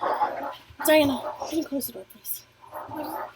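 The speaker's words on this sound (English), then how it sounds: "Please excuse my dogs if you hear them fighting." Dogs fighting indoors, with whimpers and short yips under a person talking nearby.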